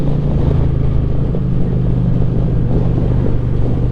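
A 2025 Indian Chieftain Powerplus Performance bagger motorcycle rumbles while being ridden, giving a loud, steady low engine drone with no change in pitch.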